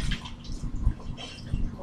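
Water kefir grains rinsed under running tap water, a steady splashing and trickling wash of water that stays close and fairly loud throughout, with occasional heavier splashes.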